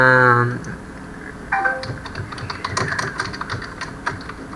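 Computer keyboard typing while entering a task into a to-do app, a run of quick, close key clicks in uneven bursts that follows a brief hum of speech.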